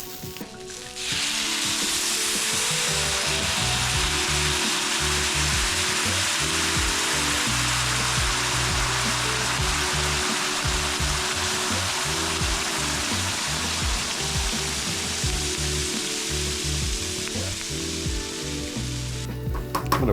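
Cabernet Sauvignon poured into a pan of vegetables with tomato paste breaks into a loud, steady sizzle that starts after a brief pause and holds evenly for the full stretch, with faint scraping underneath.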